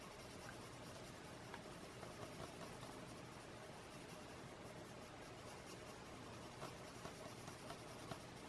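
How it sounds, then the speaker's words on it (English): Pencil coloring in small circles on paper, a soft, steady scratchy rubbing that runs continuously and faintly, up close, with light strokes and no talking. "I'm just going to do little circles."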